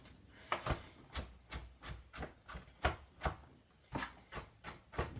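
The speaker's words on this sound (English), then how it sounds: "I'm just chopping it up like this with the garlic" Knife chopping ginger and garlic for a lamb stew, a series of soft, uneven taps on a wooden board, fairly quiet and close, with no voices.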